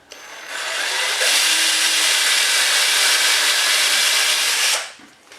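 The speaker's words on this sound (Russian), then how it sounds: "Все, сделали сверление." A power drill boring dowel holes, with a 6 mm bit, into a mirror shelf panel: one loud, steady whine rises quickly, holds for about four seconds, then winds down and stops abruptly, close by.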